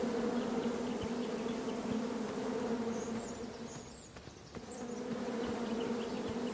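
Bees buzzing in the King's Quest video game, a steady close insect drone that thins briefly midway and then returns, with no talk.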